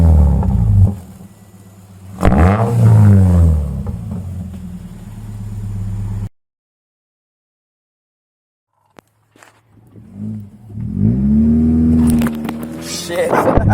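A 2007 Subaru Impreza 2.5i with a custom exhaust revs up in short bursts, its engine note rising and falling close by. People talk over and between the revs, with a stretch of near silence in the middle.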